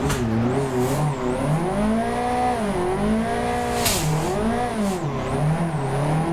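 A race car engine revs in a racing video game played on a sim cockpit, its pitch climbing and dipping through gear changes and throttle lifts, loud and steady throughout with no talking.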